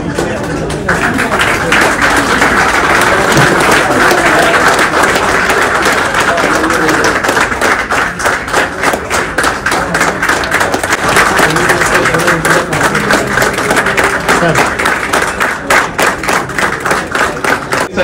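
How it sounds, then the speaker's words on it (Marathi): An audience at a police station farewell ceremony claps to welcome women police officers, dense sustained applause that runs loud and steady for many seconds, with talk over it. "सर्व आपल्या महिला पोलीस अंमलदारांची या ठिकाणी टाळ्या वाजवून स्वागत करूया सगळे"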